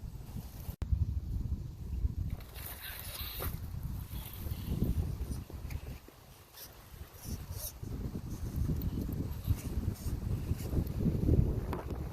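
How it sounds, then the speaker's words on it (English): Strong wind buffeting the microphone in continuous roaring gusts, with a brief lull midway before it picks up again. "Nice and windy out here."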